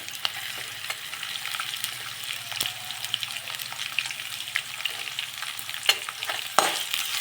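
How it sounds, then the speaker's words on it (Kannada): Green chillies, curry leaves and onion frying in a pan for palak hesarubele uppittu, a steady low sizzle with a faint hum beneath and occasional sharp clicks and scrapes of stirring, no voices. "ಹಸಿಮೆಣಸಿನ್ಕಾಯಿ, ಕರಿಬೇವು ಫ್ರೈ ಮಾಡೋಣ. ಈರುಳ್ಳಿ ಹಾಕೊಳ್ಳೋಣ."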